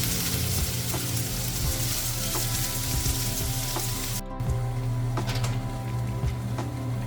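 Kerala-style long beans stir fry in oil in a pan with a steady, close sizzle and crackle throughout, dipping briefly for a moment before carrying on.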